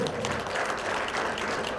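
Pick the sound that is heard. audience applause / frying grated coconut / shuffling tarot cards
audience applause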